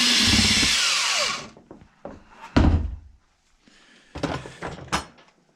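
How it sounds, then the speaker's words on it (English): A power drill boring holes into a Pelican PWR 100 kayak to mount a fishfinder: a loud, close whirring burst, then short drill bursts and hollow thunks against the plastic hull. "So we're gonna mount this here, drill a couple holes, run the wires up"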